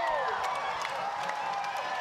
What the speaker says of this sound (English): Some celebrating going on here.